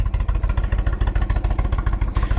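An Indian Chieftain motorcycle engine idles steadily at about 800 rpm up close, its rapid, even chugging pulses loud and rhythmic with no other sounds.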